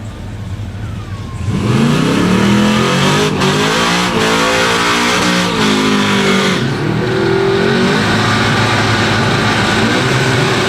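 A nitrous-fed small block Chevrolet in a Ford Fairmont drag car revs hard at a street race event, a loud, sustained, throbbing engine roar with rising and falling pitch that holds close and steady after a quieter start.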